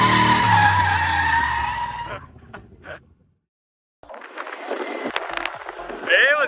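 Ford Mustang tires skidding and squealing loudly for about two seconds, fading out, then after a brief silence a rougher burst of engine and tire noise with a rising squeal near the end.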